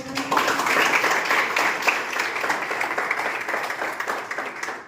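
Sustained crowd applause at a small felicitation ceremony for library study-room students selected as electrical assistants, a dense, steady patter of many hands lasting throughout without a clear break.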